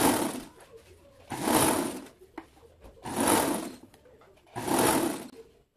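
A sewing machine stitches a draped dress with batwing sleeves, running in four bursts of about a second each with brief quiet pauses between, close and loud.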